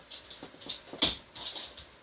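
An agitated dog whimpers and whines in short, high, uneven bursts indoors amid creepy banging noises in the house, with one sharper cry midway; the sounds are fairly close, with no talking.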